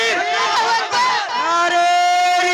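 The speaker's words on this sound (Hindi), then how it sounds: "लगा दो नारा। नारे तकबीर, नारे तकबीर," At an educational awareness conference, a loud amplified voice leads the Nara-e-Takbeer slogan as a crowd chants along, a sustained, ringing call heard close over a packed gathering.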